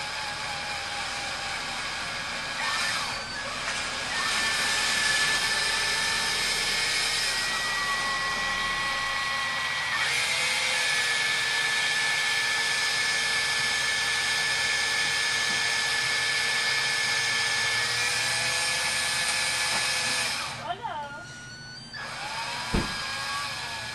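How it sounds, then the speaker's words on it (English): A power drill whines steadily for a long stretch while drilling into trident maple bonsai wood, its motor pitch holding high and even, dipping briefly as it bites in, then spinning down. "Starting off nice and slow, trying to keep the drill bit"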